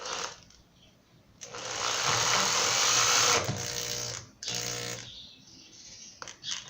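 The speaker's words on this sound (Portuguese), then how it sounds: "para você fazer com a furadeira manual" A manual hand drill whirs in several bursts, grinding into a Brosol 2E carburetor with a high buzzing rasp, pausing briefly between runs.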